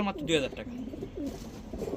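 Pigeons cooing at a market stall selling fancy breeds such as high-flyer Giribaz and Pakistani pigeons, soft low coos mixed with voices talking nearby.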